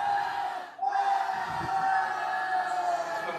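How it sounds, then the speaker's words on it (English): A swim team roars through its roller coaster cheer, a loud crowd of voices yelling and whooping together with a brief dip before surging again. "The roller coaster cheer."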